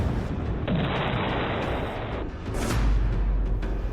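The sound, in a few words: missile misfire explosions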